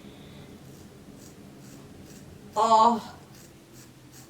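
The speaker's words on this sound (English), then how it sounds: "I'm basically just gonna take these shears and just cut." Hair-cutting shears snip through hair during a head-shaving session, a brief close crunching cut of about half a second standing out over faint room noise, with a voice reacting softly.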